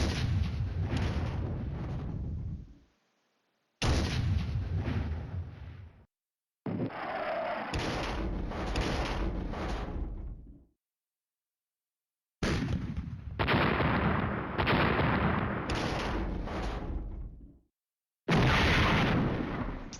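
Artillery strikes in the Flashpoint Campaigns: Red Storm video game: a series of heavy, booming impacts in separate bursts of several seconds each, broken by dead-silent gaps, loud and without speech.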